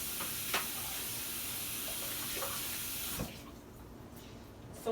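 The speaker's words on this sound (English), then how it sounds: "I'm going to rinse the spoon off" Water running from a tap to rinse a spoon, a steady close rush that splashes briefly a few times and then stops abruptly after about three seconds, leaving quiet.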